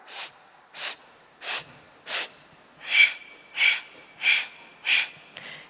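Staged breathing in through the nose during a breathing exercise: eight evenly spaced, close breath sounds in a steady rhythm, the later ones carrying a slight whistling edge, with no talk.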